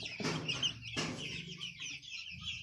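Colombian Brahma chickens clucking and squawking nearby, two sharp outbursts followed by softer murmuring calls.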